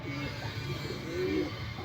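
A racing pigeon back from a race out of Matnog gives soft, low cooing calls up close, a couple of short rounded coos over faint background noise.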